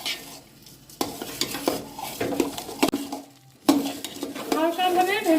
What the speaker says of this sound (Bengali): এখন চাল ডাল একসাথে একটু ভেজে নিতে হবে।